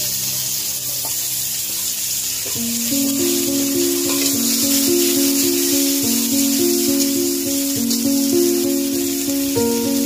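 Chopped onion frying in hot oil with whole cumin, dried red chilli and bay leaf, giving a steady, dense sizzle throughout, with sustained tonal notes running underneath.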